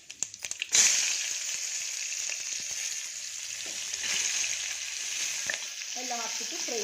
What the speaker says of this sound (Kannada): ಎಲ್ಲ ಹಾಕ್ಬಿಟ್ಟು ಫ್ರೈ ಮಾಡ್ತೀನಿ ಸ್ವಲ್ಪ ಹೊತ್ತು